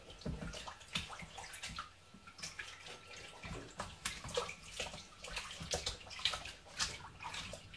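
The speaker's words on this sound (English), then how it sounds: "Knead it about under the water to get the fabric soaking up the compound" Fabric being kneaded and squeezed under water to soak it in a treatment compound, giving irregular sloshing, splashing and dripping sounds up close, with no talking.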